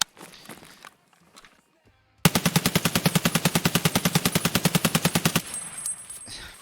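Crouched 7.62 rifles fire in Escape From Tarkov: after a quiet stretch of faint movement, a loud, rapid, evenly spaced automatic burst runs for about three seconds, then stops abruptly.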